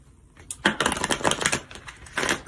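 Tarot cards shuffled by hand, crisp papery riffling bursts starting after a brief quiet, running steadily for about a second and a half, pausing, then one more short burst near the end; no voices.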